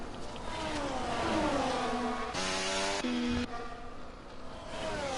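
Formula 1 cars race at the Hungary Grand Prix in the F1 24 video game, their high engine whines rising and falling in pitch as several cars pass close by, loud and continuous.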